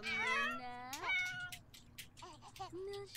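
Cats in The Sims game meow in a run of rising and falling calls, one long wavering meow followed by shorter ones, fairly close and moderately quiet.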